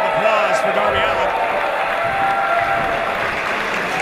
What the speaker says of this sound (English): another round of applause for Darby Allin